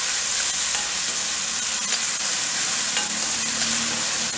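Finely chopped mushroom sizzling steadily in a pan with salt and curry leaves, a loud, dense, continuous frying hiss with occasional stirring scrapes, no voices.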